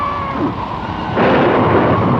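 Thunder rumbles through a hurricane storm in a film, a deep, sustained roll that swells louder midway through, with rain-like hiss behind it.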